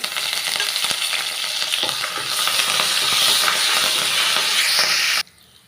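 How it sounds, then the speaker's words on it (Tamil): Mustard seeds, cumin, chilies, curry leaves and a pinch of asafoetida sizzle and crackle steadily in hot oil, close and loud, then cut off abruptly near the end. "கடுகும் ஜீரகமும் நல்லா பொரிஞ்சிருச்சுங்க"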